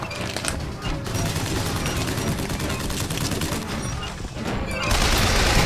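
A hand-cranked Crank Gun fires in BioShock Infinite, a dense, continuous rapid volley of loud close shots under game noise, briefly dipping before surging louder at the end.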